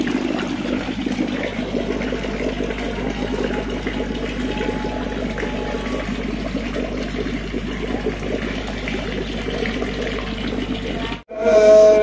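Aerated water churns steadily in a biofloc fish tank over two feet deep, a continuous close bubbling and sloshing wash with a brief dropout near the end.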